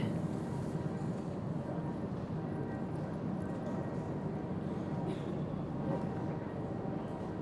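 Low, steady rumble of a train rolling along at a distance, continuous and unhurried with no other clear sounds.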